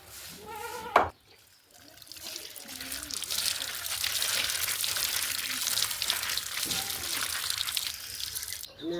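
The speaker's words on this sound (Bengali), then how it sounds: "এখন ডাল আর সিমের বিচি ধুয়ে নিয়ে আসি" Water runs and splashes steadily while lentils and bean seeds are rinsed in a kitchen, a close continuous wash after a short knock at the start.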